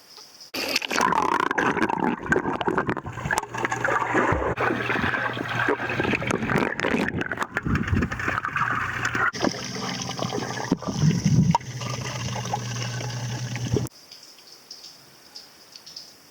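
A model plane moving underwater stirs a steady, loud rush of churning, gurgling water for most of the stretch, then it cuts off abruptly to a quiet hiss near the end.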